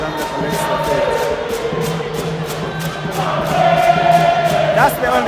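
Supporters at a Zambia vs Zimbabwe Olympic qualifier match fill the stadium with steady, loud crowd noise, a continuous roar with rhythmic drumming and chanting that swells near the end.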